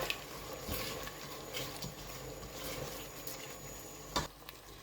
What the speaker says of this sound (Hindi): अब इसको थोड़ा सा करते हैं फ्राई 2 मिनट।